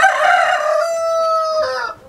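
An Indian rooster of a prize-winning show breed crows once, loud and close, a long sustained call that tails off near the end.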